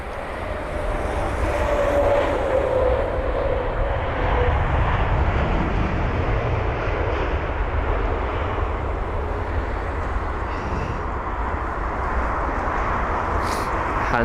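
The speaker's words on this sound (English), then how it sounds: "We've got an arrival of a 787 of British Airways to capture." A British Airways Boeing 787 arriving at London Heathrow, a steady broadband jet roar with low rumble that holds at a fairly constant level throughout, fairly close, with no talking.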